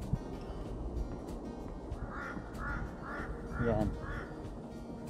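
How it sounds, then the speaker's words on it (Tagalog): A crow gives a run of five evenly spaced caws at a moderate distance on a forest trail at Camp John Hay, Baguio City, then a second crow's harsher call answers, over faint background noise and a brief spoken word. "Nagka-communication yung dalawang uwak."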